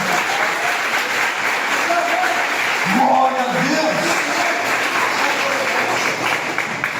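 A church congregation claps steadily and loudly through a sermon, with a preacher's voice rising over the applause midway before the clapping carries on alone.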